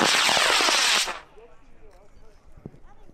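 A high power model rocket motor launches with a loud, roaring burn for about a second, then cuts out sharply, leaving faint crackling and distant outdoor noise.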